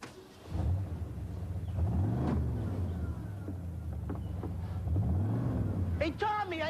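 A car engine rumbles at moderate level with a couple of rising revs as it drives off, while people talk over it and a brief high whistle-like sound appears near the end.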